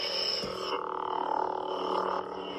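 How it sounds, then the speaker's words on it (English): A Darth Vader sound font on a Saberforms Neopixel lightsaber gives off a steady low mechanical hum with a rhythmic breathing-like pulse, close and continuous, a brief click near the start. "Get Vader's sound font."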